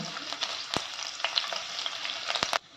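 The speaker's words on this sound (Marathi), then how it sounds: "तेल घेतलं आहे थोडंसं एक दोन टेबलस्पून त्याच्यात हे आलं आणि मिरचीचे तुकडे घालून जरासं परतून घेऊया" Ginger and green chili pieces frying in a spoonful or two of oil, a bright steady sizzle with sharp spatula clicks and scrapes against the pan, close and alone, cutting off abruptly near the end.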